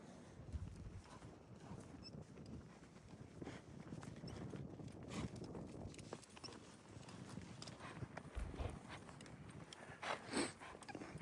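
A horse being tried out on a desert ranch clip-clops along at a steady walking rhythm under its rider, the hoofbeats moderately close over a broad outdoor rumble.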